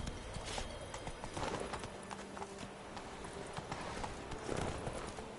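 The horse Roach gallops in The Witcher 3, a steady rhythmic clip-clop of hooves on the ground throughout, close and continuous at moderate volume with ambient game sound beneath.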